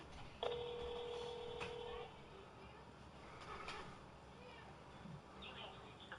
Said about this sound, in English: If you know the extension of the person you are calling, please dial it now.